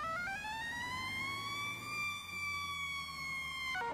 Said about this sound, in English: You got your cue siren.